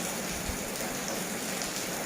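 Rain falling steadily outdoors, a dense continuous hiss of drops spattering on surfaces, even and unbroken throughout, with no voices.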